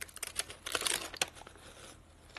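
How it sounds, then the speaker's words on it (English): Paper dragged through the ignition points of a 1967 Harley-Davidson 74ci Shovelhead engine for cleaning, giving close, quiet scratchy rustling and crinkling strokes with a couple of sharper scrapes, then fading off. "Drag it through the point, take a little bit of tension off so it won't tear the paper."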